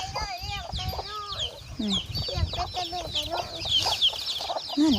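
Several chickens cluck and chirp close by in a busy, overlapping chorus around a small chicken coop, with small chicks peeping and a voice murmuring beneath them.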